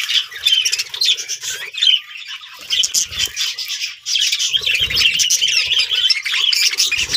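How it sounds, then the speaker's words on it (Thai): A budgerigar chick that has just left the nest squawks loudly and insistently in harsh, rapid bursts with only brief pauses, close to the listener. "อันนี้เป็นลูกนกเพิ่งลงรัง"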